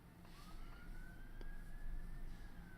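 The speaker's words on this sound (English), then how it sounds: "Police car's been a long time going down the road." A police car siren wails faintly in the distance on a road, one slow rising tone drifting over steady traffic noise.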